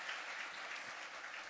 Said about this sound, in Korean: 다시 한번 박수로 축복해 주시기 바랍니다